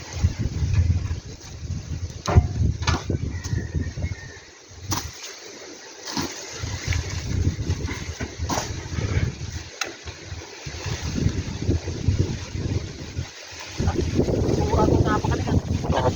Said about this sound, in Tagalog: Talagang sumisipol yung hangin.